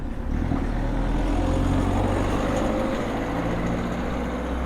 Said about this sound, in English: Small French car, noisy diesel engine.